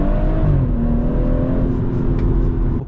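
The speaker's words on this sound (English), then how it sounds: "I've got the Remus non-resonated catback exhaust, which is a very loud exhaust when you're on the throttle" A BMW M140i with a loud Remus non-resonated catback exhaust drives along, its engine droning steadily with a slight change in pitch before the sound cuts off near the end.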